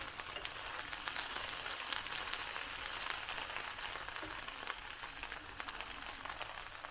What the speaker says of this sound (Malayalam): ചെറുതായിട്ടൊന്ന് ഫ്രൈ ചെയ്ത് വന്നാൽ മതി.